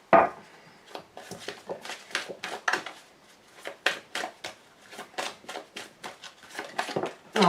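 A deck of tarot cards is cut and handled, giving a quick irregular run of crisp papery snaps and slaps, close and fairly soft, with no talk over them.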